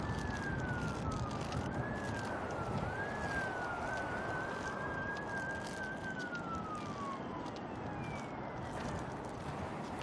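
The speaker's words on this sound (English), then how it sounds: "I think the fire truck siren works." An airport fire truck at Auckland Airport sounds its siren during a test, a long wailing tone rising and falling over several cycles above a heavy, steady roar of wind and engine noise.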